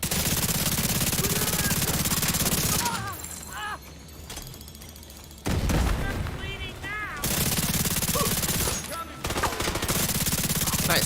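Loud, continuous automatic gunfire in the online shooter The Division 2, with heavy sustained bursts broken by short lulls, amid the general clatter of a firefight rather than a single distinct sniper crack.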